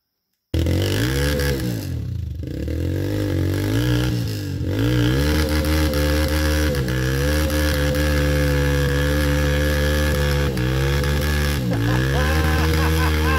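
A motorcycle engine labors loudly and continuously on a rough trail, pitch rising and falling as it strains under load, with brief dips between revs.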